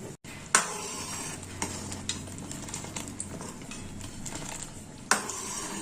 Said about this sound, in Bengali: ডালটা দেখুন ফুটে উঠেছে।